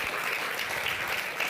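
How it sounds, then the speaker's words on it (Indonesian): Audience applause for Bung Edi Mulyadi at an Indonesian talk-show gathering, a steady dense patter of many hands clapping throughout, fairly close and alone without talk. "berikan tepuk tangan dulu untuk Bung Edi Mulyadi."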